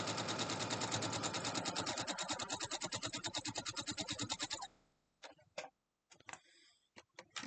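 A sewing machine stitches a quilt block in a rapid, steady mechanical rhythm for several seconds, then stops. A few brief clicks and handling noises follow, with no talking.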